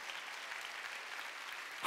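A church congregation at a Wednesday evening worship service bursts into steady, sustained applause, a dense wash of many hands clapping at once that fills the hall with no voices over it.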